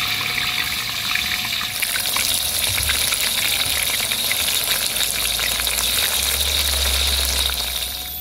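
Steady, loud sizzling and crackling of tofu and tempeh frying in hot oil, continuous throughout with no voices.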